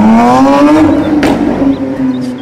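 A loud, high-pitched toy race car engine whines steadily, its pitch rising slightly then fading away.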